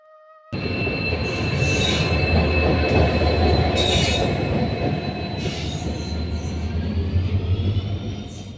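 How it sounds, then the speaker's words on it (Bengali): A train pulls into a station platform, loud and close after a quiet start, with steady rumbling wheels and high metallic squeals that rise and fade repeatedly. "ট্রেন ঢুকেই পড়লো"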